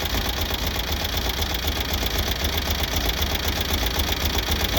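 A 1970 VW Beetle air-cooled engine, recently repaired for a cylinder two misfire, idles steadily and close by, with a smooth, even running drone and no talk over it.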